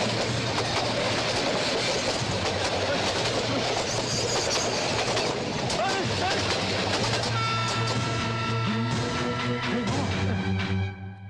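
A train runs along a railway track with a continuous loud rumble and rhythmic clickety-clack of wheels, sustained throughout, with faint voices mixed in and a brief tonal squeal near the end.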